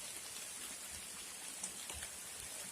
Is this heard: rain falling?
yes